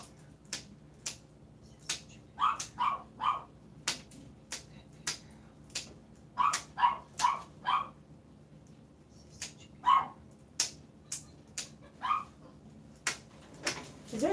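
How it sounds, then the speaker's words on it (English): A dog alone in a kennel gives short, repeated whimpers and yips in clusters, interspersed with sharp clicks, fairly quiet and close, with no talk over it. "Is there a dog in a kennel by herself?"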